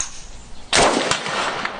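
A single sharp, loud report from a Chinese Type 97 FTU rifle being fired, bursting out over a quiet background and followed by a short ringing tail.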